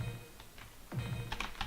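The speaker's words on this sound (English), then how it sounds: "mash the hell out of my keyboard" Computer keyboard keys are mashed hard while the player performs special moves in the fighting game King of Fighters XI. A few isolated clacks come first, then a dense, loud burst of rapid typing, with no talk.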